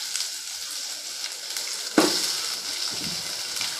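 Onion drops into hot oil already holding mustard seeds and urad dal, giving a soft sizzle that bursts louder at the drop and then settles into a quiet, continuous frying hiss.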